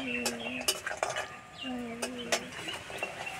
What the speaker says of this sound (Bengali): বড়িটা লাল লাল করে ভেজে নিতে হবে।